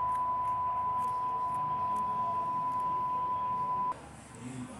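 A steady, continuous censor bleep sounds for about four seconds, then cuts off abruptly; faint background noise continues afterward.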